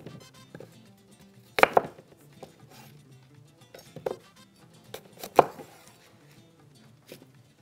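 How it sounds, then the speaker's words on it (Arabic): A knife chops apples on a cutting board in a few sharp, sparse knocks separated by quiet handling noises, close and clear. "نقطع التفاحات التانية"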